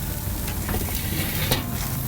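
A T-bone or porterhouse steak sears in a hot pan with a dense, steady sizzle and crackle. Occasional sharper pops sound close and loud throughout, with no talking.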